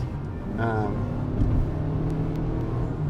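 A Toyota Camry hybrid accelerates hard, a low engine rumble that builds and holds while people talk inside the cabin.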